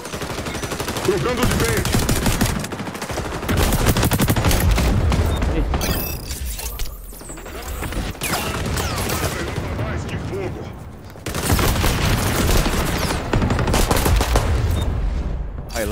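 Rapid automatic gunfire and loud shots in a shooting video game, with dense bursts running nearly the whole time and brief lulls between them, while game voices and a player talk over the action.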